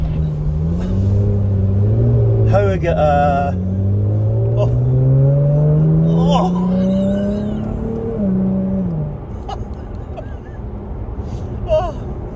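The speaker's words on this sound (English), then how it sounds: "the sound of this thing is just incredible. So this is my 2018 Jaguar F-Type." A 2018 Jaguar F-Type with a 3-litre V6 revs loudly close by, its rising and falling engine note sweeping up and down for several seconds before settling back, with a brief voice in the middle.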